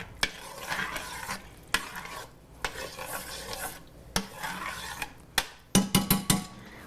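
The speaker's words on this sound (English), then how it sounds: "We're going to stir this up" A spoon stirs wine and tomato sauce in a hot pan on a stove set to high, scraping and clinking against the metal in repeated strokes over a steady sizzle, with sharp taps near the end.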